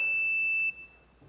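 A CCTV system alarm sounds a loud, steady high-pitched electronic tone after a login attempt, holding for under a second before cutting off, leaving a faint residual hum.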